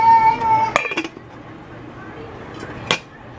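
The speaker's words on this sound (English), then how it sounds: "So I'm gonna put that on low and cover it." A metal lid clatters onto a pot of chili with a couple of close clinks, followed by another sharp knock of cookware, in a home kitchen where a voice is briefly heard.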